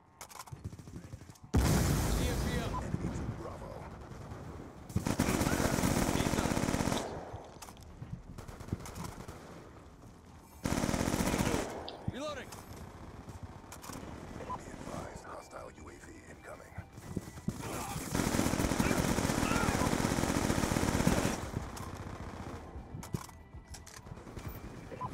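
Bursts of PDW submachine gunfire in Black Ops II, several rapid automatic strings of varying length separated by short pauses, loud and close, with speech in between.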